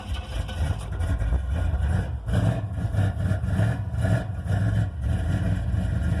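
A 1986 Monte Carlo SS with a 383 engine and spiral-core mufflers fires on a cold start and settles into a loud, steady, throaty exhaust idle with a pulsing low rumble, heard close up with no talk.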